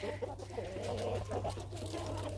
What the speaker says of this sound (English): The rooster was defending his hen from the other hen.